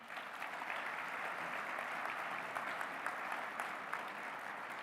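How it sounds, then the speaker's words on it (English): A crowd applauds steadily for several seconds, a dense wash of clapping heard from a little distance. "A round of applause for them."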